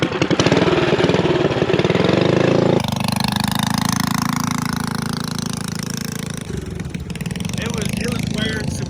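Mini bike engine running at low throttle chugs in a rapid, steady putter up close; the tone drops and steadies partway through and rough mechanical rattle follows, with people talking over it.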